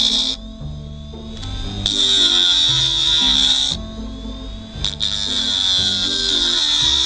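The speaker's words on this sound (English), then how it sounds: "In just few minutes I make grinder out of hard drive, and now I'm gonna sharp my knife" A small homemade grinder built from an old hard drive hones a knife blade, giving a steady high whine with a harsh scraping edge in two long passes separated by a short pause, loud and close with no voices.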